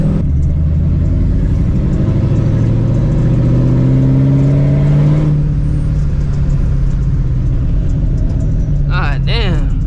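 A supercharged 2004 Mustang GT V8 with a straight-pipe exhaust rumbles loudly from inside the cabin, its pitch climbing and falling through gear changes. Near the end, a voice speaks over the engine.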